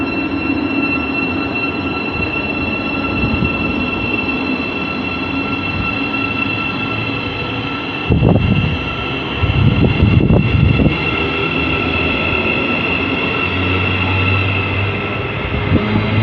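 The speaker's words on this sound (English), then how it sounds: "departing now in any time soon will be the 1523 service to Sutton" A train departs Hendon station on the Midland Main Line as the 15:23 service to Sutton, a steady rolling rumble of carriages with a few louder bumps and clatters from the wheels, with no talking.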